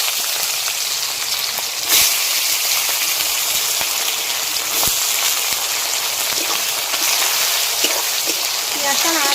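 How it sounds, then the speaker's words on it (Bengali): Chopped onion drops into hot oil already seasoned with bay leaf, a dried chilli and whole garam masala for a Bengali chicken curry, giving a loud, dense, continuous sizzle with occasional sharp crackles and pops. "এবার দিয়ে দেবো পেঁয়াজ কুচি।"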